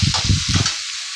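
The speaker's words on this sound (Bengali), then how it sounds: "এটা ভাজা হয়ে গেলে পেঁয়াজটা" Onion frying in a pan for spring roll filling with green leaves, carrot and green chilli, a loud close sizzle with stirring scrapes that fade toward the end.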